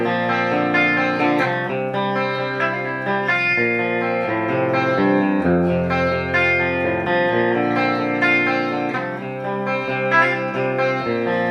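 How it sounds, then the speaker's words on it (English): Electric guitar with Seymour Duncan humbuckers strums a few chords in a clean tone through a Peavey amp, ringing and sustained, one after another with no voices. "I'll just start with a clean tone through the Peavey and nice and simple. Just a few chords"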